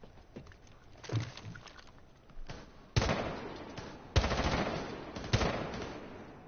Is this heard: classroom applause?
no